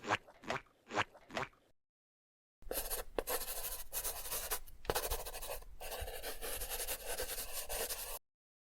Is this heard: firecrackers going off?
no